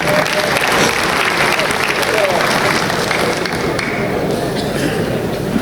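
Loud, sustained applause from a railway union gathering, welcoming a colleague from the Western Railway Employees Union, filling the whole stretch at steady intensity with scattered voices in the crowd.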